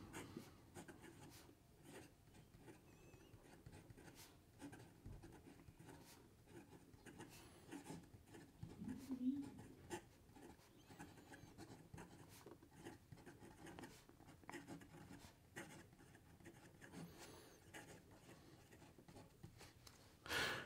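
An Esterbrook Estie Oversized fountain pen with a medium nib writes on paper, giving a faint, continuous scratchy rasp with small strokes and pauses, close and quiet.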